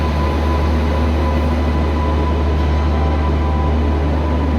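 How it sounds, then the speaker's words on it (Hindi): The Shiv Ganga Express rumbles into a busy railway station, a loud, steady, close roar of wheels and carriages with a low drone throughout and no speech. "यहाँ पर अराइवल हो रहा है शिव गंगा एक्सप्रेस का"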